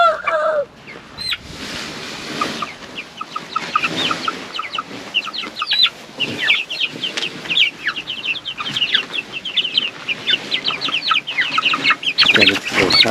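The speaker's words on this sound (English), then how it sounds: "the chickens are in their new home" Several chickens settling into a new hoop coop cluck and chatter continuously, with quick repeated calls close by and fairly loud, and a few louder squawks rising over the flock.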